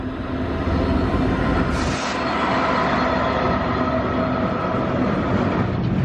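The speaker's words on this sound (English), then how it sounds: "Incoming freight train." A freight train rumbles past close by in Cardiff, a loud continuous roar of rolling wheels and clattering cars with no break.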